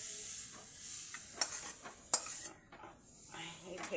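Fried sour chilli radish poured out of a pan, giving a soft sizzle and scraping stir with a couple of sharp metallic clinks, fairly quiet.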